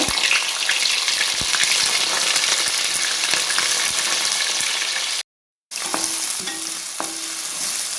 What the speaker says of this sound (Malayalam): നമുക്ക് ആദ്യം കോളിഫ്ലവർ ഒന്ന് വഴറ്റിയെടുക്കാം